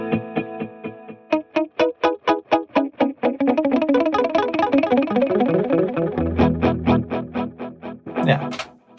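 Electric guitar through a Fractal Audio 80s cover band preset with delay, distorted picked notes and chords repeating in rhythmic echoes that build into a dense wash, then ring out.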